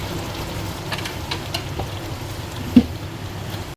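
Onions, tomatoes and yogurt frying together in a pan for mutton kaleeji, a steady low sizzle and bubbling close by, with one brief knock partway through.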